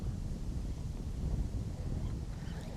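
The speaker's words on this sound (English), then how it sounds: "Whoa, it's windy." Steady wind buffets the microphone on an open fishing boat during fall bass fishing over grass, a continuous low rumbling roar with no talk.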